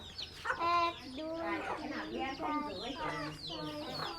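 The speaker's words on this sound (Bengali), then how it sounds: "কত সুন্দর মুরগি খাচ্ছে" Several village chickens feeding nearby cluck and cackle in quick, overlapping bursts that fill the whole stretch.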